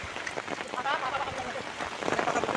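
Heavy rain during a spring storm falls on paddy fields and jute plants. It makes a steady, dense patter throughout, with a voice talking over it.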